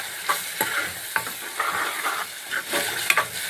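Spice paste for an egg masala curry sizzles in a pan, with repeated stirring scrapes and bursts of frying crackle in an irregular rhythm, close and fairly loud with no talking.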